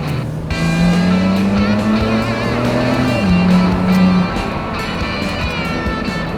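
A BMW Z4 E89 driving in Sport Plus mode, its engine note heard loud and close from inside as it rises steadily under acceleration, then drops with a gear change and carries on droning.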